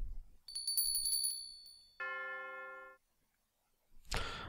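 Bell tones from the puzzle video game Forgotten Books: a bright, high ringing bell followed by a lower, sustained chime, then a brief silence before a short noisy clunk at the end.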